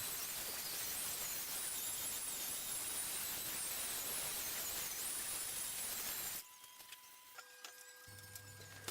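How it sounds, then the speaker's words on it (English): A belt sander running an 80 grit belt grinds glue squeeze-out off a wooden toy cabinet, a steady, loud, hissing abrasive roar that holds for about six seconds before cutting to a quiet background. "I am using the belt sander with an 80 grit belt"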